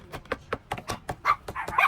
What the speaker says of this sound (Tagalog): Ayan, nag-inite na yung mga aso.